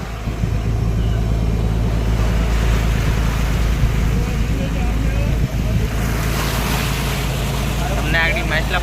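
A fishing boat approaches over the open sea, its engine a loud, steady low rumble mixed with washing waves and wind, with a faint voice in the background.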